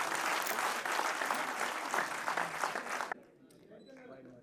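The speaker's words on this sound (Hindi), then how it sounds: "तालियां उठे तो जरा खुलकर उठे।" Audience applause fills a ceremony hall at the Atal Samman Samaroh, Bharat Mandapam, loud and sustained for about three seconds, then cuts off abruptly to a quiet room with faint murmur.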